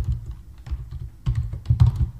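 Typing on a computer keyboard, soft muffled keystrokes in short irregular clusters, close and alone with no talking.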